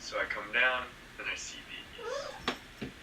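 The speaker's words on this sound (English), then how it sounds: "That's a cat." A cat in a cage meows a few times, the cries broken up and partly covered by someone speaking close by.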